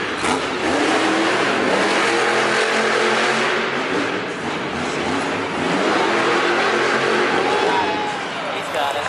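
Hurricane Force monster truck roars at full throttle on a racing run at a Monster Jam stadium event in Hamilton, Ontario, its loud engine droning continuously while an announcer talks over it.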